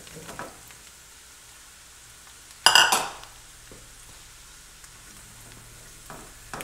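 Mushrooms tumbling into a skillet of cauliflower and garlic make one sharp clattering burst midway, followed by a faint, low sizzle in an otherwise quiet kitchen.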